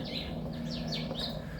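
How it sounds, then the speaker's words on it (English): Birds chirp in the trees beside a house in Observatory, Cape Town, giving a few quick, bright downward-sweeping calls over a steady outdoor hum. "Can you hear the trees,"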